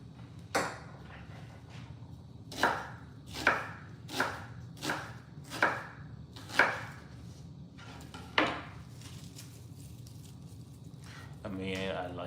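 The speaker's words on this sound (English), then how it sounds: "Cut up a little bit of onion." A knife chops onion on a cutting board in about eight evenly spaced, firm thumps close by, followed by a brief rustle at the end.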